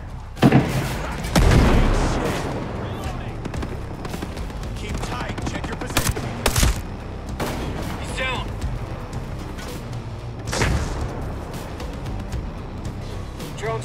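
Gunfire in the Ghost Recon Breakpoint video game: sharp rifle cracks and bursts of automatic fire with a few heavier booms, scattered irregularly, close and loud, with voices shouting over the combat.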